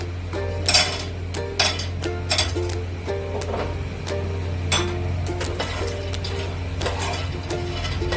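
Peanuts being dry-roasted in an oil-free pan with mustard seeds and fennel, heard as repeated sharp metallic clinks and scrapes of a spoon against the pan over a low steady hum, close and without talk.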